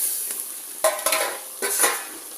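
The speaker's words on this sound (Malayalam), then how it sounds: "ഇനി നമുക്ക് ആ കായും കൂടി അതിനകത്തോട്ട് ചേർത്ത് കൊടുക്കാം." Raw plantain pieces stirred into cooking long beans in a Kerala-style pan dish, a soft simmering sizzle with two short bursts of spoon stirring and scraping, close and without voices.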